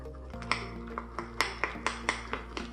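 A spoon stirs mug cake batter in a mug, clinking against the sides in a steady rhythm of about eight bright, light taps a few tenths of a second apart. The taps are close, fairly soft and heard alone.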